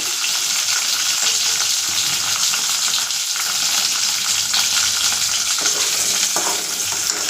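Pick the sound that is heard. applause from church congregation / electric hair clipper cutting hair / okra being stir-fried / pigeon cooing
okra being stir-fried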